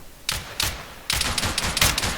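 Arma 3 gunfire at long distance: a couple of separate sharp shots, then a dense run of rapid overlapping reports, crisp and fairly loud with no voices.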